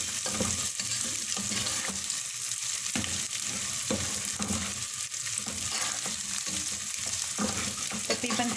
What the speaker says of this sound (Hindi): दो 3 मिनट इस गोश्त को तेल में फ्राई करेंगे।